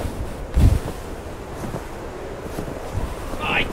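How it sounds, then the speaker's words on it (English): Gusty wind buffets outdoors in a park, a rough, blustery rush with a few sharp bumps against the microphone, fairly close and steady, with faint voices in the background. "My gosh, it's ever so windy."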